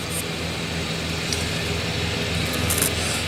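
A lawn mower drones steadily in the background outdoors at dusk, a constant broadband hum with low engine tones and no gaps.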